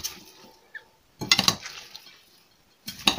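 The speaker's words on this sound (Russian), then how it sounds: "вот это все нужно перемешать с яйцом" Cabbage casserole ingredients being mixed with egg in a small cup, a spoon clinking and scraping against the sides in two short, sharp bursts separated by near quiet.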